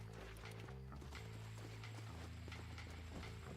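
Rapid hoofbeats of a galloping horse in Red Dead Redemption clatter steadily over game music, with a faint whinny; the sound is synthetic and evenly mixed.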